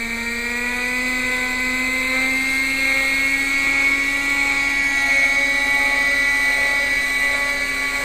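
A Quickie .18 nitro RC helicopter hovers at three-quarter throttle, its small engine and rotor making a loud, steady, close buzzing whine whose pitch creeps upward slightly and then holds even.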